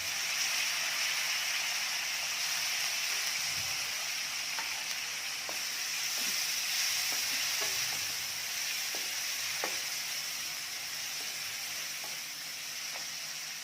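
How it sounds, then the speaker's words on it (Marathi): Chana dal with turmeric frying and being stirred in a pan for a cabbage side dish, a steady bright sizzle with scattered light scraping taps from the spoon, close and continuous without talk. "डाळ पण परतून घेतलेली आहे."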